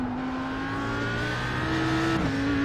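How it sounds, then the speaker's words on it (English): An Audi R8 GT3 race car at Bathurst holds a loud, steady high-revving engine note close by as it sits on the rev limiter. The pitch stays level, then dips briefly near the end, and there is no talking. "Rev limiter again."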